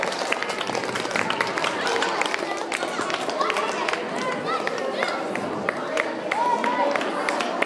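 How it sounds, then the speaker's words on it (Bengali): An audience at a high school's 75th-year celebration claps for prize winners: a sustained patter of many hands, fairly near, with crowd chatter and voices underneath. "যারা পুরস্কার পাচ্ছে, যারা দেখছে, তোমাদের কিন্তু হাততালি দিয়ে উৎসাহিত করতে হবে।"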